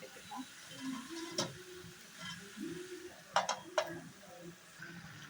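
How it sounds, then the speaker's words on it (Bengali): Cauliflower stirred and frying in a pan with winter vegetables, a low sizzle under scattered scraping strokes of a spoon, with a few sharper clinks near the end. "আমি আরও অল্প কিছুক্ষণ এভাবে ভেজে নেব"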